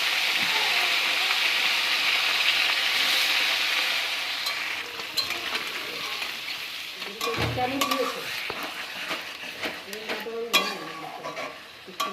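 Crab fries in hot oil in a wok, giving a loud, steady sizzle at first that softens into stirring scrapes and clatters with crackling bursts.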